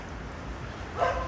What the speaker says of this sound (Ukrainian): Я вже забув, що собаки гавкають в Німеччині.